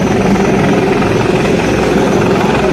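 An Indian Air Force rescue helicopter hovers nearby during a ropeway rescue operation, its rotor and engine producing a loud, dense, continuous roar that fills the whole moment with no voices.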